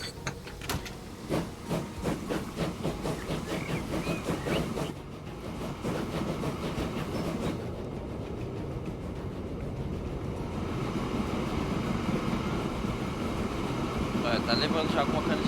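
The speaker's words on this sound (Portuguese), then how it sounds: "trem de cana de açúcar" A sugar cane train runs in the video game Transport Fever 2: a rhythmic chuffing pulse that gives way to a steady rolling rumble and hiss, with a voice talking at times.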